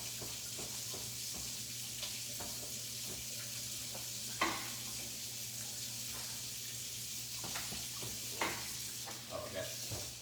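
Manicotti sauce sizzles in a pan while being stirred, a constant frying hiss with a low hum beneath and occasional spoon scrapes and knocks, close by, with faint voices in the background.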